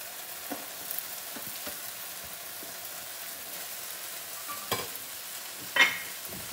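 Grated paneer is stirred into frying tomato in a pan, giving a soft continuous sizzle with scattered scraping stirs and a couple of sharper utensil clinks near the end.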